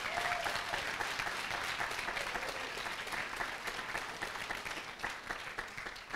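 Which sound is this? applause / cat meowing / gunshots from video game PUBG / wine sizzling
applause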